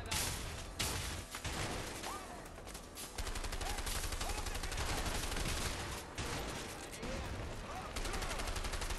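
Dense, sustained gunfire from the action game A Way Out, with rapid overlapping bursts of automatic and single shots across the whole stretch, loud and close, with occasional voices mixed in.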